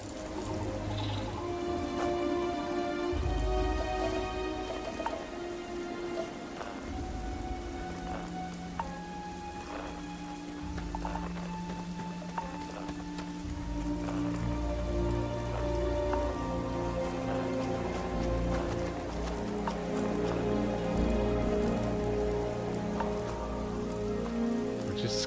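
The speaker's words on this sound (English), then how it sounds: "Freezing liquid rain." Freezing rain in a video game patters steadily and densely on surfaces throughout, a continuous close hiss of drops mixed with game music tones and low rumbling.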